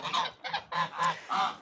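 A hen in a backyard coop gives a run of five loud, harsh squawks in quick succession, close to the listener, with short gaps between the cries and no talking over them.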